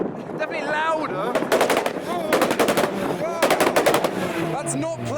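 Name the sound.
Honda Civic exhaust popping loudly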